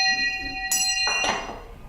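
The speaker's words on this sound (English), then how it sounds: "The school bell was a hand bell. She would stand outside and ring this bell" A schoolhouse hand bell rung by a teacher, a couple of bright metallic clangs with lingering ringing tones, fairly faint over a low background hum.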